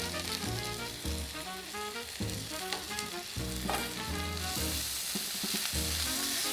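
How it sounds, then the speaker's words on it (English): A spice pack with cardamom sizzles in hot oil in a pan for pepper pork curry, a steady close crackle with repeated rhythmic stirring scrapes and taps of the spoon. "I'm just stirring it until I can smell that the oils have been released"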